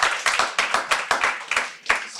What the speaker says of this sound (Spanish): Un aplauso por los actores.